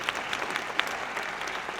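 An audience applauds at a regional business awards ceremony in the Loiret. The clapping is steady and moderate from a medium-sized crowd and heard from a little distance, with a few sharper claps standing out.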